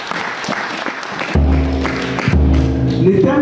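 A church congregation bursts into loud, sustained applause and rhythmic clapping after a short stretch of scattered taps, with a low organ-like drone swelling underneath.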